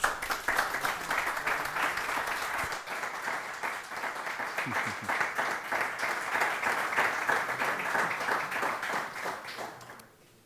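Sustained audience applause filling a conference hall at a social economy forum, dense steady clapping from many people lasting about ten seconds before tapering off at the end.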